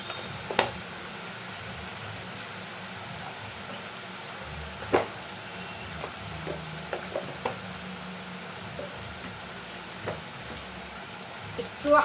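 Ground cumin and coriander frying in a little oil for a Bengali chicken curry, a faint, steady sizzle broken by occasional soft clinks of a spoon against the pan.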